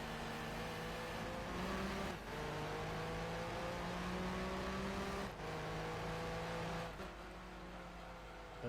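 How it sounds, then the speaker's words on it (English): Engine of a racing car in Gran Turismo 2 roars loud and steady, revving through gear changes with brief dips at each shift, a continuous furious drone with no talk over it. "Literally everything about this car is just literally making it sound like it's furious, because that is one furious engine."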